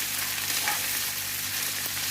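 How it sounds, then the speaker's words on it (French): Cooked potatoes frying in a pan and being stirred while making tartiflette, a steady close sizzle with soft scraping and no voices. "Alors, j'ajoute les pommes de terre cuites."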